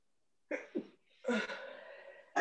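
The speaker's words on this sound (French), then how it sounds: "Faut pas retenir un éternuement." A woman sneezes during a Pilates abdominal workout, one sharp burst with a short intake before it, followed by a longer breathy trailing sound, close and fairly loud in an otherwise quiet room.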